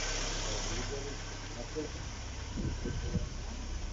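An Opel Corsa B 1.4 engine idles after a cylinder head repair, a steady low rumble with a faint irregular knocking, while people talk over it.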